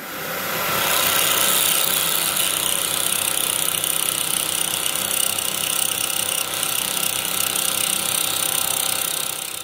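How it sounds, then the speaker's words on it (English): Milling machine side-milling the edges of a custom triple tree yoke for a Triumph chopper, a loud, steady broadband cutting roar that builds in over the first second and runs continuously without talk. "We can get side milling these to finish the sides off."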